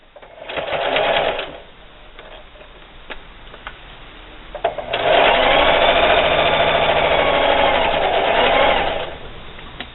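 Sewing machine stitching around the mitered corner of a fabric reusable sandwich wrap: a short burst of steady mechanical whirring, a pause while the work is turned, then a longer continuous run of fast stitching, close and loud.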